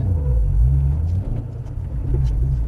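A Ford Mustang Shelby on a drift course pulls away in first and is shifted quickly into second, its engine giving a loud, steady low rumble that dips briefly at the gear change before building again.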